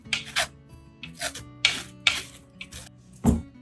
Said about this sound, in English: now we're going to get that saran wrap on there. Just wrap it around nice and tight.